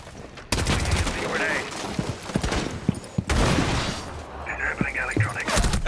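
Gunfire in Rainbow Six Siege during a Hereford Base match, with dense volleys and sharp individual shots almost throughout, plus louder crashes and brief voice-like sounds under the shooting.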